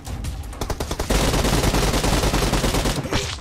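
PUBG Mobile gunfire, a close, loud burst of rapid automatic shots that runs into a dense continuous fusillade before stopping near the end.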